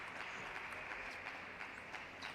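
Spectators in the stands clapping and cheering for a table tennis player at a Rio 2016 Paralympic men's singles match, a faint, steady patter of distant applause.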